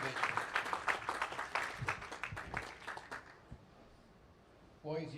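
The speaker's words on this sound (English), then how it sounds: "let's give a round of applause here for Lena, our champion in the U18" A crowd at an under-18 bowling championship applauds the girls' division champion, Lena, with bursts of clapping that fade out over several seconds before a voice briefly begins.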